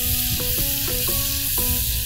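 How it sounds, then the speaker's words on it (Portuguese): White onion and chopped garlic sauté with a dense, constant sizzle in a pan, close up, alongside faint tonal background sounds and no speech. "Um pouco de alho. Alho picado. Uma leve refogada em tudo."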